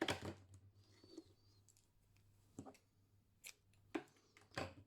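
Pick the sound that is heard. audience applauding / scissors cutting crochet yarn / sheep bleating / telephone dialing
scissors cutting crochet yarn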